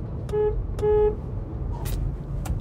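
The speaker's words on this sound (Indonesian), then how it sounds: "Mungkin dengan sedikit perbaikan klaksonnya bisa yang pakai dua dengan nada yang harmonis" Two short, bright car horn honks from a Hyundai Stargazer sound in quick succession, followed by faint traffic noise and another brief distant beep.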